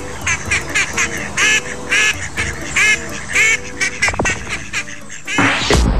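A duck quacks repeatedly in loud, raspy bursts, close by, with a short flurry of sharper honks near the end.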